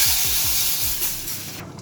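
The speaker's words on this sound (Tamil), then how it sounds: "இது கொதிக்குது பாருங்க நல்லா" A pot of sambar with a tempering of mustard seeds, dried red chilli and asafoetida just added gives off a loud, close, steady hiss and sizzle, with a few quick crackling pops at the start.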